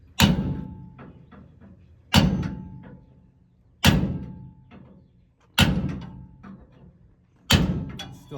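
Five hard metallic hammer blows, spaced roughly two seconds apart, strike a stuck sway bar bolt on a 1994–2002 Dodge Ram, each whack ringing briefly and then decaying, close and loud with no talking.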